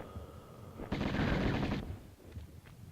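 Uzi fire in the Tomb Raider video game, one rapid automatic burst lasting about a second, loud and close, followed by faint game ambience.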